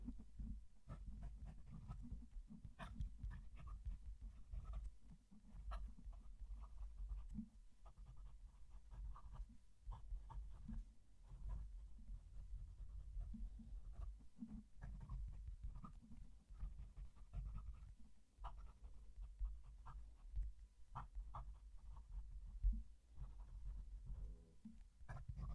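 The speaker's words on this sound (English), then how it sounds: "Again, let's move the mic and write a sentence." A fountain pen writes a sentence on paper with the mic held close, producing a faint continuous scratchy rasp with small irregular stroke clicks over a low rumbling background.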